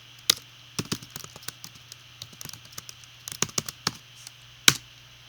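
Typing on a computer keyboard comes through as scattered close key clicks in short irregular bursts, with one sharp louder tap near the end, over a faint steady hum.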